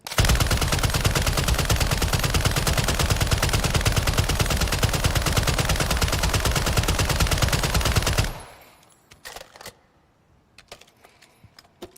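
Rapid sustained full-auto fire from the R.A.A.L gun in Call of Duty Modern Warfare 3, a dense loud burst of shots for about eight seconds while aiming down sights, then cutting off into quiet game ambience with faint clicks.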